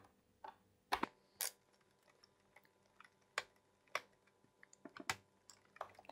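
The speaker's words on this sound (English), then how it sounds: "removing the hard drive requires me to remove this small enclosure. So for that, I'll first remove these screws." Small screws being removed from a laptop's hard drive enclosure, scattered faint clicks and sharp ticks of a screwdriver at uneven intervals over a quiet background.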